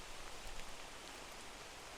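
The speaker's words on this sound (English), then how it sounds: "Let's get out of the rain here." Steady rain hiss in a sim racing video game, faint and even, constant wash of droplets with no talk.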